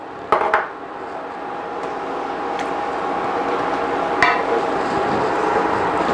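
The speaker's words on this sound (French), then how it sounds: "On gratte en même temps le fond de la poêle, le poêlon. J'y ajoute les canneberges." Cranberries tipped into a hot frying pan while a utensil scrapes the pan bottom, opening with a few sharp metallic knocks and clinks over a steady sizzle, close and alone without talk.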